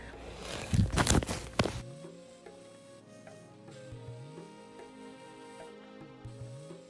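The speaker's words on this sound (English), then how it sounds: "cover it so that it will start frying and the water will drain more" A loud burst of sizzling as palm oil fries in a pan for about a second, then it cuts off, leaving soft music and faint background tones.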